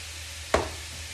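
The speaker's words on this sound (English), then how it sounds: "That's one way to chop an onion." A single quick chop as a hand food chopper plunges down through an onion, one short, close thud-and-crunch over a quiet kitchen background.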